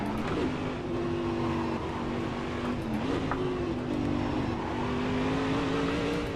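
A race car engine held at high revs in Assetto Corsa, a steady loud droning tone with slight pitch wavers and a brief dip as it shifts, continuous throughout with no talk.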